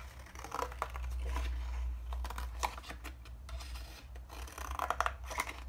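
Scissors cut out a paper drawing of a chameleon, giving quiet close snips and rustles of paper in irregular bursts with no talking.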